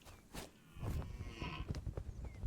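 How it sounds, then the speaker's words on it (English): Cow mooing in the video game Earth 2, one fairly distant low bellow amid ambient game noise, with no talk over it. "there was definitely a cow right there"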